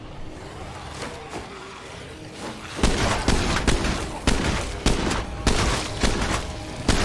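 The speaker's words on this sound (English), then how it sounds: "Let me get my shotgun out." Shotgun blasts in a video game come in a rapid run of sharp, loud bangs after a quieter stretch, firing irregularly roughly every half second against a busy background.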